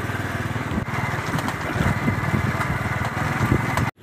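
Loaded Honda motorcycle trolleys pass close by on a farm road beside fields, a steady loud putter of small engines running throughout, with no talk.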